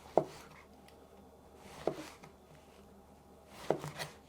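Three separate knife chops on a cutting board, spaced about two seconds apart, as the tips are cut off zucchini; each stroke is a short, fairly quiet thud in an otherwise quiet kitchen.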